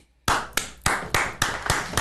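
Single pairs of hands clap sharply at a near-even pace, seven crisp claps close by in a quiet room, with no talking over them.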